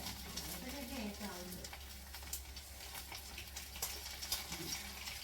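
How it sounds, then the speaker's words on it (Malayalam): Mustard seeds pop faintly in hot oil, scattered sharp crackles over a soft sizzle, quiet and somewhat distant, with a low voice briefly underneath. "കടുക് പൊട്ടുന്ന വെച്ച കേൾക്കുന്നുണ്ടോ?"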